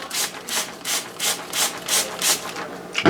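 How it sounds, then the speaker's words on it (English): Repeated short spritzes from a spray bottle misting onion seeds, about eight evenly spaced pumps close to the microphone, each a soft hissing burst. "give it another spray"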